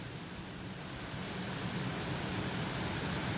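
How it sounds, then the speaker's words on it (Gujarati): Steady monsoon rain in Vadodara, a dense even wash of falling water with runoff streaming like small rivers, fairly faint and continuous throughout with no speech. "વરસાદ એવો સારો આવે છે, જો આમ પાણીને આમ નદીઓ ચાલુ થઈ ગઈ."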